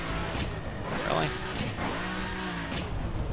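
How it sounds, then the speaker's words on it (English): A car engine drones and revs close behind in The Crew racing game, a steady motor hum with gear shifts running under continuous spoken commentary. "And there's a car behind me."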